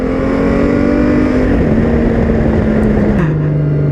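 Honda Gold Wing 1800 DCT motorcycle engine revving loud and close with a steady droning hum that steps down in pitch a few times as it shifts, under constant wind rush.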